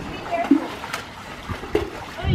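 Children splash in a swimming pool, with a few brief splashes under a background of kids' voices and chatter.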